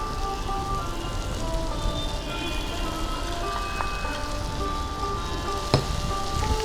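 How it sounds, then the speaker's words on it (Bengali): Small puti fish dropped into hot spiced oil sizzle in a steady, even crackling hiss that carries on throughout, with a couple of faint utensil clinks over it. "মশলা থেকে তেল ছেড়ে এসছে, এবার পুঁটি মাছগুলো দিয়ে দিচ্ছি।"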